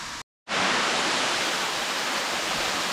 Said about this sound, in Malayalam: നമുക്ക് നമ്മുടെ വെള്ളച്ചാട്ടം ഇവിടുന്ന് ഇങ്ങനെ കാണാം. അവിടെ വെള്ളം വരുന്നുണ്ട്